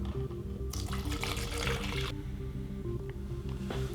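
Half a liter of water pours into a shaker bottle for a banana-flavored protein shake, a steady splashing fill running close and loud over a constant background hum.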